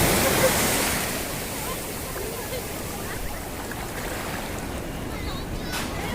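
Big ocean waves crash on a beach. A loud roaring surge opens, then eases into a steady, heavy wash of surf that continues to the end.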